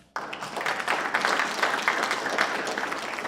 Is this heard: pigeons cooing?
no